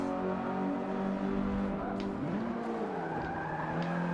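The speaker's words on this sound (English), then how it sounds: "getting some drift action there" Race car tires squeal and skid through a drift in Forza Motorsport 5, a sustained whining screech with a falling then rising pitch over a steady engine drone.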